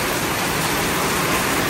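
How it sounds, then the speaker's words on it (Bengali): Heavy rain pours down during a thunderstorm, a steady, dense wash of noise that fills the whole stretch without a break and no voices over it. "প্রচন্ড পরিমাণে বৃষ্টি হইতেছে।"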